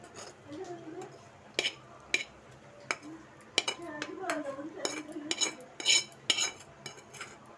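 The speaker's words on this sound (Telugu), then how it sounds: "మనం రెడీ చేసుకున్న తిరగమాత దీంట్లో వేసేసుకుందాం." Tempering stirred into majjiga pulusu, a Telugu buttermilk curry, with repeated clinks and scrapes of a spoon against a pot, some faint sizzling, and a voice speaking underneath at times.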